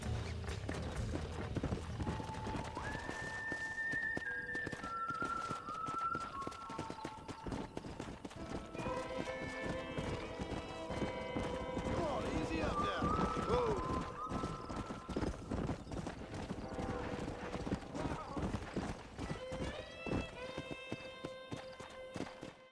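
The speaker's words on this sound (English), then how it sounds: "We got some fine horses" Horses in the Red Dead Redemption video game, with steady clip-clop hoofbeats and several high whinnies over a layer of music and game noise, loud and continuous throughout.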